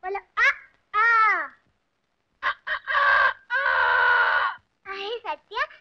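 A man imitates a rooster crowing with his voice, giving several loud, close, warbling cock-a-doodle-doo calls and clucking bursts separated by short silences.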